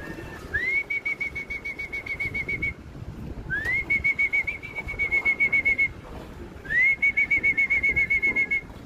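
Racing pigeons returning to the loft after a training toss from Lucena, Quezon: three long rising whistles, each holding steady, over a soft rapid fluttering of wings, fairly close and moderately quiet.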